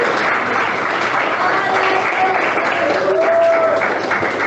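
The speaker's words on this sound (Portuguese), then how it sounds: "E bate palmas." A church congregation applauds: dense, sustained clapping from many hands filling the room throughout, with voices faintly mixed in.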